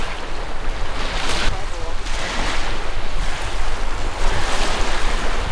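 Ocean surf washes continuously onto a beach, a loud broad rush that swells and recedes every second or so, with heavy wind buffeting the microphone.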